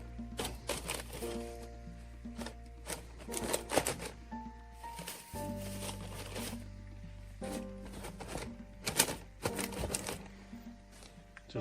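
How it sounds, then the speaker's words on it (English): Homemade wood-stove fire starter is torn into sections, giving quiet, uneven crackling rips and tearing bursts up close. "you'll just tear off the section that you need"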